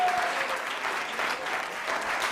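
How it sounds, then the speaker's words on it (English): Studio audience applause from a talk-show crowd, a dense steady roar of clapping that holds at an even level throughout, with no pause. "Maybe this is the really, really long applause."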